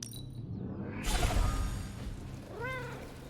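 Ebony the cat from the video game Marvel's Midnight Suns gives a short rising-falling meow near the end, clear and close, after a burst of swooshing game ambience.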